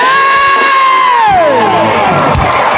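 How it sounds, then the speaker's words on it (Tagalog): A large crowd at a live reggae band concert roars and cheers loudly in a sustained wave, with a high shout sliding down through the noise. "People of Batarasa, isang hiyawan mga Bridges!"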